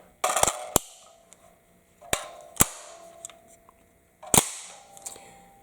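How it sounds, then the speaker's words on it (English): Magazine dropping out of a CZ Scorpion EVO pistol-caliber firearm fitted with ETS magazines: a few sharp metallic clacks and clicks, close and loud, spaced over several seconds with quiet gaps between. "Dropping the mag."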